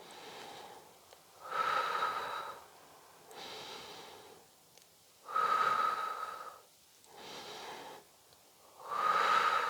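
Slow, deep Pilates breathing on a large exercise ball, alternating long airy exhales and inhales in an even rhythm, each breath swelling then fading with quiet pauses between, close and alone.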